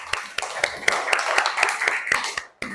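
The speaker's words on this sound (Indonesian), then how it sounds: "Oke, beri tepuk tangan dulu buat kita semua." A school class claps hands together in an Indonesian lesson: a run of about ten sharp, evenly spaced claps, fairly close, with voices murmuring underneath.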